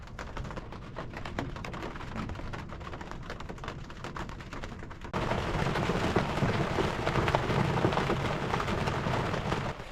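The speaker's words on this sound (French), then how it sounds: "Oh, il commence à pleuvoir un petit peu, quelques gouttes." Light rain begins falling with a few drops over the Saint Lawrence river shoreline, a dense steady patter with low rumbles of thunder underneath, growing noticeably louder partway through, no voices.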